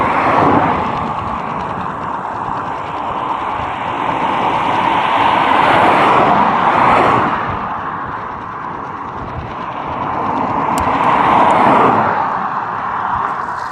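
Steady traffic whooshes past on a dual carriageway during a cycling trip from Kendal to Fleetwood, a continuous loud roar that swells and fades as vehicles pass close by, with no talking.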